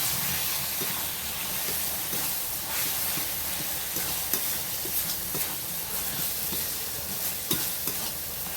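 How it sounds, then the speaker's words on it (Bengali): A small splash of water in a hot cooking pan of paneer curry, giving a steady hissing sizzle with soft stirring scrapes throughout, close and even in level, no voices. "অল্প একটু জল দিয়ে দিচ্ছি।"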